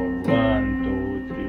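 Piano notes played steadily in four-four time at a beginner lesson, a series of sustained tones with a clear attack near the start, ringing on alone at moderate loudness.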